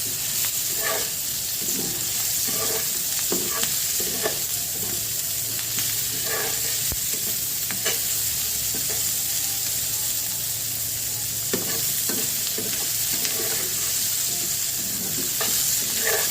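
Ground turmeric, salt and chili powder sizzle steadily in a pan, with a spoon scraping and clinking at irregular intervals over a constant hiss that runs throughout, and no voices.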